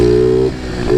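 A stock-exhaust engine on a Chinese pit bike runs close and loud, holding a steady note, dipping briefly in the middle, then climbing again in a short rev.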